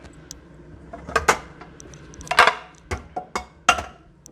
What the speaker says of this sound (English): I'll get my frying pan.